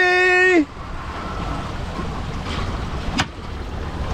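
A MacGregor 26 sailboat under way on the sea in the Florida Keys, with steady wind and water rush around the hull, a brief tonal sound at the start and a faint splash near the end.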